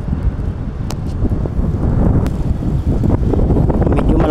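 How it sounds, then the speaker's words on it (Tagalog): Strong wind buffets the microphone outdoors, a steady loud roar with gusty rumbling throughout. "Medyo malakas ang hangin ngayon."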